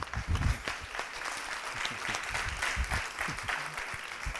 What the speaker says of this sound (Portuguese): Vamos receber com muitos aplausos Arnon Grunberg.